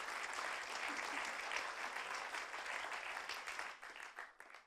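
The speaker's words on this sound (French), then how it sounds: "On peut les applaudir, c'est le premier trophée de cette soirée." Steady audience applause, dense clapping from a crowd that holds for several seconds before thinning out toward the end.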